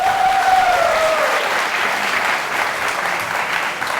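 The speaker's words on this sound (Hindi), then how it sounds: "तालियां!" A television studio audience applauds on an Indian courtroom-style talk show, loud dense clapping sustained evenly throughout with a faint tonal sound fading early on.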